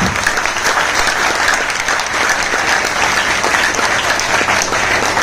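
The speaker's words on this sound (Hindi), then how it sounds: "रोहतक सुनारिया वालों की तालियां उनके लिए कैसी होनी चाहिए" Loud, sustained applause from a large crowd welcoming a chief guest at an event in Sunaria, Rohtak, steady and dense throughout with no pauses.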